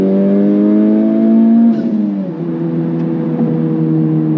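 A Honda Civic Type R accelerates hard at wide open throttle in second gear: a loud, close engine drone with a steady pitch, then a sudden drop midway before it carries on more gently.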